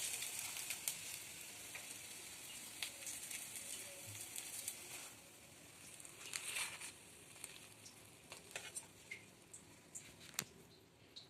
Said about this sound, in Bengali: আমার পরোটা ভাজা একটু হয়ে যাবে।